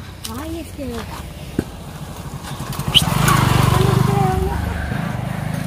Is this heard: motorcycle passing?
yes